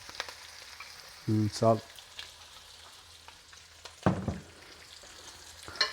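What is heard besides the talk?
food frying in oil in a pan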